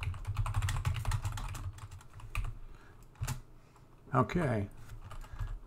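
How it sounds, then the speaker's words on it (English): Keys clatter in a steady run of quick taps on a computer keyboard while text is entered into the Vim editor, with a voice speaking briefly over the typing and a couple of louder strokes near the end. "and now I can just type some text."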